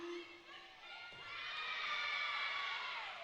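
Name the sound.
home crowd cheering at gymnastics meet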